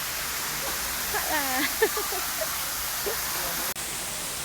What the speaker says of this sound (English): I love the sound, the water sound.